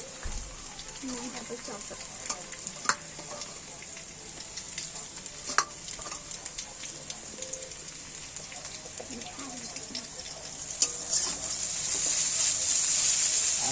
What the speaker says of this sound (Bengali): ভাজা হচ্ছে আস্তে আস্তে